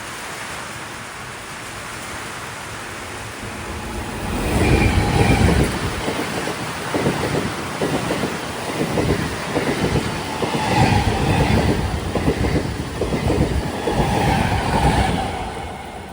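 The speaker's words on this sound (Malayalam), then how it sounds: "ഒരു വണ്ടി വരുന്നുണ്ട്" A train rolls into Cheriyanad railway station in heavy rain, a loud rumbling approach with rhythmic wheel clatter building over a steady hiss of downpour.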